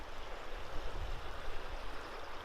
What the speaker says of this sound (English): The Green River is flowing rapidly today.